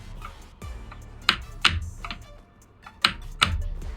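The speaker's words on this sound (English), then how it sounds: "I went from forward to low block in 1 frame using keyboard" Computer keyboard keys pressed while playing Street Fighter 6, a handful of sharp, clacky taps spaced irregularly with a few harder presses, close and clear with no talk.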